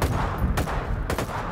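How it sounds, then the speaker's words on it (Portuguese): Gunfire aimed at mercenaries in GTA V bursts out in a rapid, dense volley, with two sharper cracks standing out, loud and close throughout. "os mercenários estão tomando tiro, não tá nem vendo onde tá vindo o tiro"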